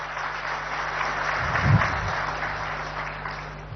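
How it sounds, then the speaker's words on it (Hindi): Audience applause welcoming a leader at a cyber building inauguration and MOU signing ceremony, a steady moderate wash of clapping with no talk. "आप जोरदार तालियों के साथ एक बार स्वागत करें"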